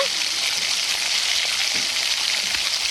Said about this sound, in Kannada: ಆ ಕಸ್ತೂರಿ ಮೆತ್ತಿಗೆ ಅದು ಸ್ವಲ್ಪ ಹುರ್ಕೊಳ್ಳೋಣ